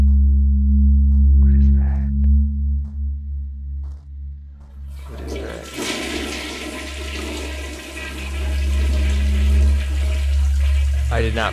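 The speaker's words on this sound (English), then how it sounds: "I did not flush that." A toilet flushes with a sudden rushing gush of water that swells and churns for several seconds, close by, over a steady low hum.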